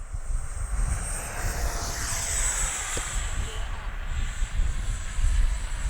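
A Freewing F-16 70mm electric ducted-fan RC jet taxis on a runway, its fan giving a steady high whine that shifts pitch as it turns, over rumbling outdoor wind noise.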